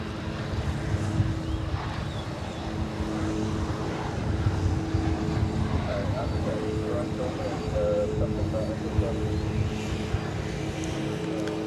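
An American Airlines jet arriving from Des Moines touches down on runway 18 Left at DFW Airport, a steady broad engine roar that holds across the clip at moderate distance, with talk faintly under it.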